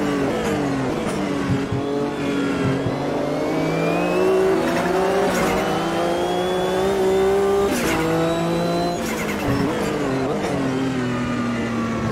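A pack of GT race cars in Automobilista 2 roars close by, engines revving up and down through gear changes, with rising whines and brief tyre squeals over a continuous loud drone.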